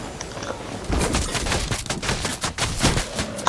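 Rapid gunfire bursts in the video game Fortnite, a loud cluster of repeated shots and impacts over a steady game soundscape, with no talking.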